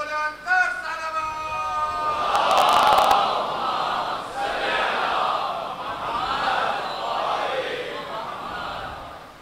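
A crowd at a Muharram majlis gathering raises the Nara-e-Haidari slogan, a loud sustained swell of many voices shouting together for several seconds, with a brief burst of cheering and a lone voice leading at the start.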